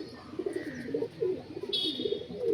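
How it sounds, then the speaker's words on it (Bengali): Pure Andhra pigeons coo in low, repeated rounded calls close by, a steady run of soft throaty pulses with a brief higher chirp near the end and no talking. "প্রত্যেকটা আন্দারা পায়রা, পিওর আন্দারা পায়রা, কোনো লোকাল পায়রা নেই"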